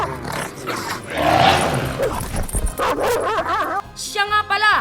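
A dog gives several yipping barks and whimpers, close and loud, mixed in among voices talking and dramatic sounds.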